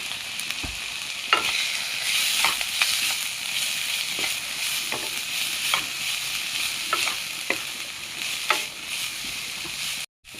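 Cabbage, carrot, tomato and capsicum stir-fry in a wok for a vegetable soup. A spatula scrapes and clacks in a loose rhythm over a constant close sizzle, with no talking.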